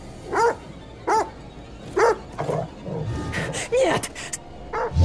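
A dog barks in a horror video game, The Devil in Me, giving several sharp, separate barks spaced through the moment against a low, busy game background.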